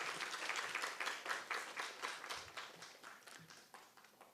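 Congregation at a Catholic weekday Mass gives a round of applause, rhythmic group clapping in a steady pulse that sounds somewhat distant and soft, with no talk over it.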